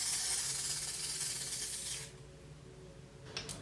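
Liquid foundation misted from a spray bottle onto a face during makeup testing: a loud, steady hiss for about two seconds, then quiet, with a short faint second burst near the end, no talk.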